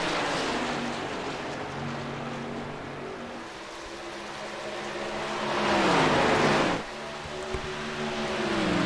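Stock cars race at Charlotte in a sim racing game, a steady engine drone that swells as a car roars close past, then cuts and resumes, with no talk over it.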